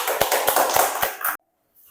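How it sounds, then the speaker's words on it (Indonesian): Grade 5 pupils in an Indonesian primary classroom clap for group 1, a short, close burst of quick rhythmic claps that stops abruptly, followed by near silence. "Tepuk tangan untuk kelompok 1."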